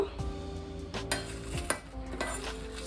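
Black pepper, fenugreek seeds and dried chillies dry-roast in a pan on a low flame, with close scraping stirs and a light crackle under a faint steady hum.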